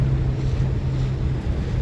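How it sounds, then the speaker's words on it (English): Strong wind buffeting the microphone outdoors, a continuous low roar with a steady hum underneath and no talking. "It's also really windy today"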